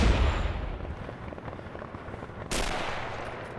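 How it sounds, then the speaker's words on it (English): Enemy machine gun fire in a video game battle, a loud blast at the start followed by a steady crackle of distant gunfire and another sharp burst partway through. "Enemy machine gun!"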